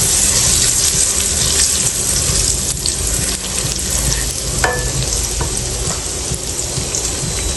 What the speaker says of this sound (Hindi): मेवे हैं, इनको थोड़ा सा फ्राई करते हैं।